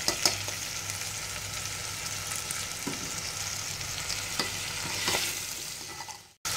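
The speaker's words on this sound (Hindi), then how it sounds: "एक टेबल स्पून अदरक लहसुन पेस्ट डालकर मैंने हिला लिया है।" Green chilies and ginger-garlic paste are stirred in a hot frying pan for potato samosa filling, with a steady close sizzle, scraping spoon strokes and occasional clinks throughout, no voices.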